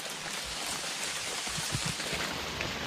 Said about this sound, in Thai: ฝนมันตกล่ะ ตอนนี้หกโมงหกโมงกว่าได้ครับฝนลงเม็ดละ